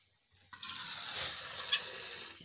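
Water starts running after a brief quiet moment, a steady close splashing stream poured out to water animals, fairly faint and continuing to the end.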